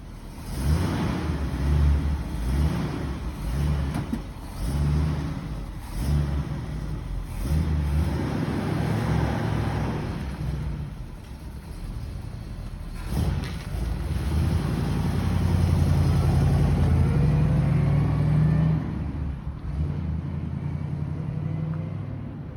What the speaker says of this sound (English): You'll be able to hear the factory chamber exhaust on it too.